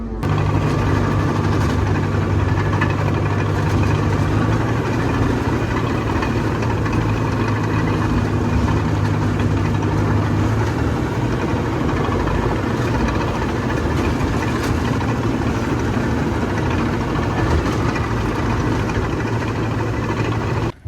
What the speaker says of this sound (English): we brought this bulldozer up here to the woods